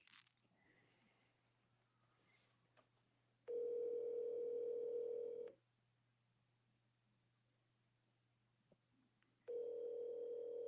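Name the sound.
phone dial tone on speaker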